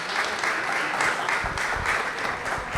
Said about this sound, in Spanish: Para ellos 3 un fuerte aplauso y nuevamente bienvenidos